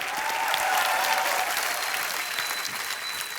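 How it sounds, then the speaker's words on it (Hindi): A studio audience at a comedy show applauds, producing a loud, sustained wash of clapping that fades slightly toward the end. "बहुत जोरदार तालियां हमारे सारे प्लेयर्स के लिए।"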